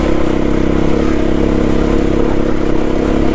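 An SWM RS300R motorcycle climbs a muddy, hard-packed lane, its engine droning loud and close, steady and unbroken throughout.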